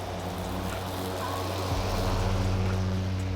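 Spinning blades of a Milwaukee M18 FUEL fully electric lawnmower with no engine, a continuous whirring hum with a steady low drone that rises in pitch partway through, close and unbroken.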